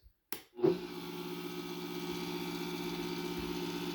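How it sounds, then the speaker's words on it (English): A Vitamix blender powered from a FOSSiBOT F2400 power station spins up after a brief click and then runs steadily, a loud, sustained motor whir with no talking. "Let's test out this Vitamix blender, see how it does."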